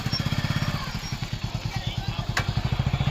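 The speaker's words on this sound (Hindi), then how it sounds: "सब लोग अपना अपना बाइक रेडी करके एकदम तैयार हो गए हैं" Motorcycles idle close by as riders ready them to leave, a steady, loud rhythmic engine thumping that runs throughout.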